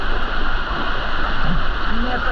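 Jungle waterfall on Moyo Island, Indonesia, a continuous rushing roar of falling water heard steadily throughout, with faint voices mixed in beneath it.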